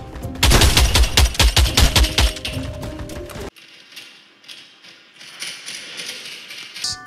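Rapid automatic gunfire in a VR airsoft shooting game: a dense, loud rattling burst of shots lasting a few seconds, then quieter scattered shots and mechanical clicks.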